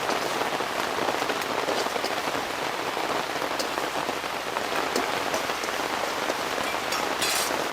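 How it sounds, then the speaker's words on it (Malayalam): Heavy rain pours down steadily in a constant dense hiss of drops hitting surfaces, loud and unbroken throughout, with no voices. "ഇവിടെ ഭയങ്കര മഴയാണ്"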